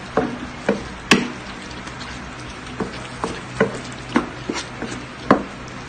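Fish being stirred in a pan during home cooking in Cambodia, heard as a series of separate sharp taps and scrapes of a utensil against the pan, spaced irregularly over a quiet background.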